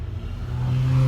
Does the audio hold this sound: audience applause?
no